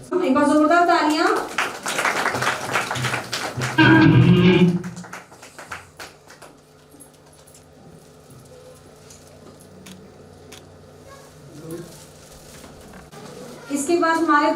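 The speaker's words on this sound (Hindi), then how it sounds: "एक बार जोरदार तालियां" At a school annual function, a burst of clapping from a small crowd follows a loud announcement, fading into quiet room noise with scattered faint claps and a voice returning later.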